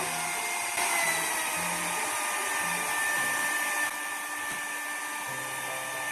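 An electric hand mixer beats margarine into a light, fluffy base for steamed marble sponge cake batter, giving a steady, loud motor whine that runs unbroken throughout with only slight shifts in pitch.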